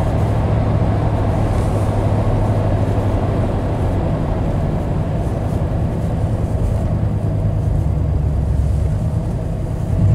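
Classic Chevy truck engine running while driving, a steady loud low rumble with road and cabin noise throughout and no talking.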